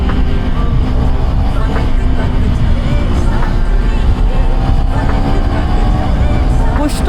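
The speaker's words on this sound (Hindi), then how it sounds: "करते हैं बाइक को लॉन्च, लेट्स गो।" KTM 390 Duke motorcycle launching hard and accelerating, a steady loud engine roar with rising pitch sweeps, close and continuous throughout, with wind and road rumble underneath.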